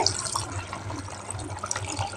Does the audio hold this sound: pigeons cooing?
no